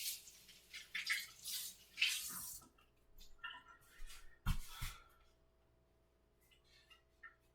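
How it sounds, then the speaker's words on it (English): Blackberries are rinsed under running water in a kitchen, with bursts of splashing and hissing flow in the first couple of seconds, then faint, sporadic drips and small clunks. "rinse this off"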